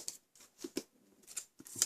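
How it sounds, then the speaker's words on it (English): Scissors snipping off a scrap of patterned designer card, a few quiet, crisp cuts in a short, uneven series, close by and alone. "we're going to snip that off"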